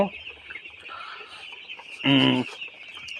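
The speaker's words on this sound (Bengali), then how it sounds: "মুরগির বয়স আজকে 7 দিন।" Seven-day-old chickens on a poultry farm cheep with a steady high-pitched chorus, and a single louder, close call breaks out briefly partway through.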